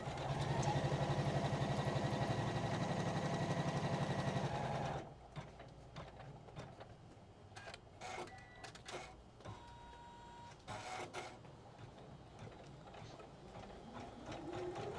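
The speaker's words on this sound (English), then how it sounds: "that's going to stitch our placement lines" An OESD embroidery machine stitches placement lines with a loud, rapid, even mechanical whir that runs for about five seconds and then stops abruptly, leaving quieter scattered clicks and handling noises.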